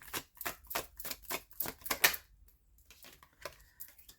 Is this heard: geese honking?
no